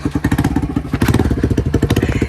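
A motorcycle idles up close with a rapid, loud, uneven thumping exhaust beat, the leaking exhaust giving a rough, crackly popping rhythm that needs welding.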